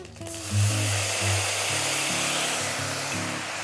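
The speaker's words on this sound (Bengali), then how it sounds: "ওই তেলের মধ্যে গোটা জিরে আর তেজপাতা ফোড়ন দেব" Whole cumin seeds and bay leaves sizzle in hot oil, a steady bright hiss that runs the full length with low tonal sounds underneath.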